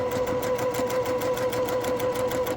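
A sewing machine stitches fabric along diagonal seam tape in a steady, close, continuous whirring run with a fast even rhythm and no talking.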